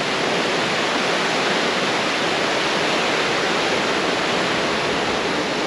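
A stream of water flowing steadily and loudly nearby on a bikepacking trail, a dense, continuous rushing wash with no pauses and no voices over it.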